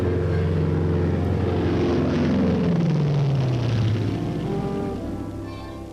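C-54 transports and C-119 Flying Boxcar propeller aircraft carrying paratroopers pass close and loud, a droning multi-engine hum whose pitch slides downward as they go by, then fades slightly at the end.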